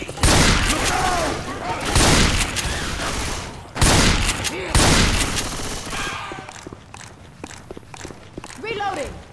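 Gunfire in Left 4 Dead 2 on The Parish expert campaign, with repeated bursts of close, loud shots in clusters separated by brief gaps, mixed with shouting players and scattered game noises.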